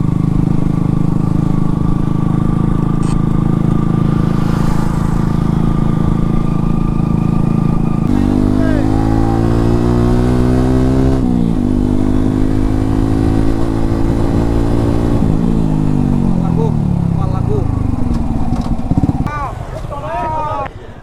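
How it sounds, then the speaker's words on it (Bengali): Several motorcycles near a large open wetland come toward the listener and go past one after another, their engines rising and falling in pitch as each one passes close and loud. People talk now and then over the engine noise. "এই ওই বাইকগুলো আসতেছে"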